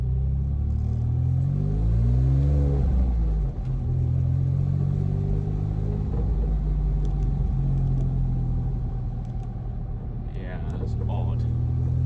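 Porsche 987 Boxster S with a holed exhaust droning at speed: a deep, boomy low rumble that swells and holds steady, with road and cabin noise around it.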